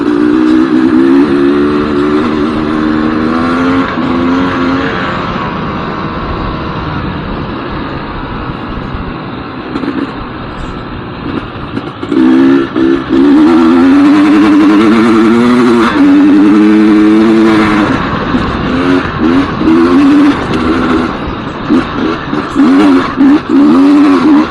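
A GasGas EC300 two-stroke dirt bike engine is heard while riding, loud and close, its pitch wavering and rising as the throttle rolls on and off between gears.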